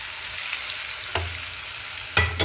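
Ginger, chillies and garlic fry in a hot mustard-seed and cumin tempering with a steady close sizzle. Two or three brief stirring clatters come from a spoon against the pan.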